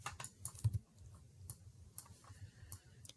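Quiet, uneven clicks of a computer keyboard as numbers are entered into a math expression, a few quick key taps clustered together and then sparse single presses.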